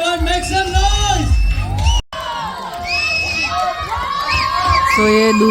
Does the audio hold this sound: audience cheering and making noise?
yes